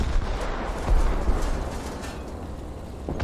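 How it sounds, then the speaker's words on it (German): Tank cannon fire in the War Thunder video game, with deep booming low-end blasts and rumbling decay, one stronger report near the first second and another sharp shot at the end. "Ich finde die neuen Kanonen-Sounds sind okay"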